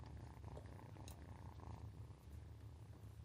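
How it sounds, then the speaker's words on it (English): Two cats purr softly and steadily close by, low and continuous, with faint room noise and no voices. "Both of them purring."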